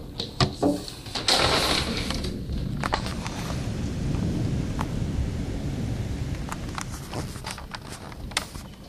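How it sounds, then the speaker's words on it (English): Thunder rolls and cracks through a violent summer lightning storm in the Catskills, New York, with sharp loud claps early on, then a long sustained rumble under steady rain, heard from indoors by a window. "we have a very violent thunderstorm outside here, lightning storm"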